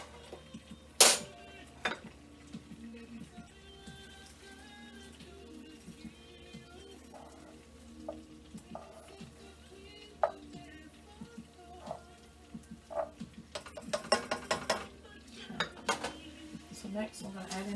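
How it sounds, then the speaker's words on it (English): A spoon clinks against dishes while chocolate fudge frosting is made, with scattered metallic taps and a few sharper clatters over a quiet kitchen background. "So we'll set aside a spoon."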